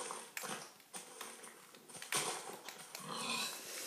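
Short snorting and grunting bursts from a pig in the Minecraft video game, several separate bursts spread across a few seconds, with no talk.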